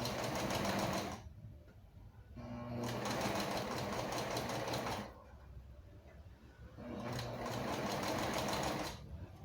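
A sewing machine stitches the hem of a classic skirt, running in three sustained bursts separated by short pauses, close and steady with a fine mechanical chatter.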